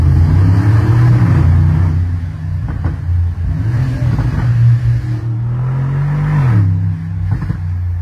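Engine of a tuned Mercedes G-Class HOF 4x4 revving while driving, a loud, close, deep rumble that climbs and falls through several rises in pitch, with no speech.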